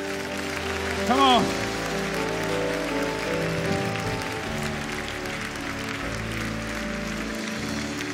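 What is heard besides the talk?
congregation applauding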